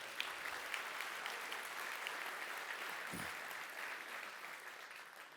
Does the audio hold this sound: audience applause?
yes